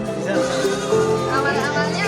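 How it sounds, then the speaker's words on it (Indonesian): Goats bleat on a goat farm in Sleman, near Yogyakarta, with a wavering, drawn-out cry that runs almost continuously, close and fairly loud against background voices. "Iya. Kambing."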